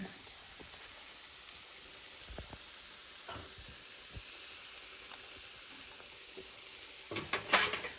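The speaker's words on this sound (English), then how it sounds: "All right, so we got our shrimp on I usually allow them to cook like 2 minutes on each side." Shrimp frying in a pan give off a steady, quiet sizzle and hiss. A few soft utensil clicks and taps break through, and a brief clatter of cookware comes near the end.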